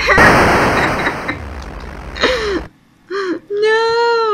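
Gunfire and explosion effects from the 1981 Stern Electronics arcade game Armored Car, a loud noisy burst at first that fades, followed by short electronic bleeps and a rising tonal chirp.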